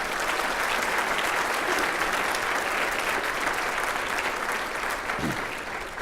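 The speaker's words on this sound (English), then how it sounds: "Let's give them a big round of applause, please." An audience at a city State of the City address applauds for city councilmembers, a broad sustained wash of clapping filling the room evenly from start to finish.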